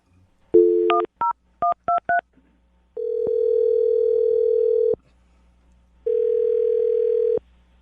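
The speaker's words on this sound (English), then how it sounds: "I'm going to dial the phone number right now and get her on the phone" A telephone number is dialed on a keypad: a run of short beeping touch tones in quick succession, followed by two long steady ringback tones with a gap between, clear and loud with no talk.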